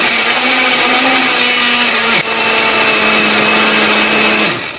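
An electric blender whirs loudly and steadily through chili spice paste with a little water or oil, a droning motor hum that dips briefly midway, then runs on close and alone.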